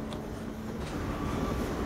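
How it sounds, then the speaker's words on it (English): Steady low rumble of a train rolling past in Half-Life 2, a continuous mechanical drone with faint rattles, moderately quiet and unbroken throughout, with no talking. "There's the train passing,"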